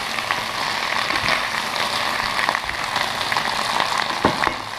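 Spinach and bok choy hiss and crackle in a hot pan as they are mixed, a dense, even sizzle with occasional sharper pops and utensil taps.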